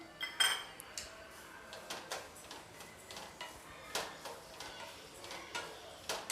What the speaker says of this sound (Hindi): थोड़े से ओट्स जो बचे हुए थे उसको मैं भून रही हूँ।